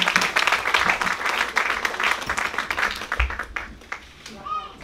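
A church congregation clapping together to welcome the preacher, a dense burst of hand claps that thins out toward the end, with a voice speaking over it.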